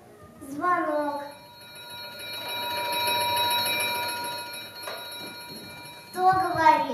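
A telephone bell rings steadily and loudly for several seconds, with a voice speaking briefly before and after the ringing.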